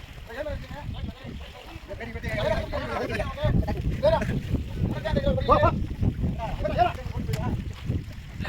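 A fishing launch speeds across the sea, its rushing water and wind buffeting forming a continuous roar beneath someone talking for most of the stretch.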